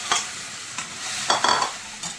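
Sauce-water mixture going into a pan of frying carrot, capsicum and onion for chilli paneer, heard as a loud bursting sizzle with a few sharp stirring clatters, close and without talk.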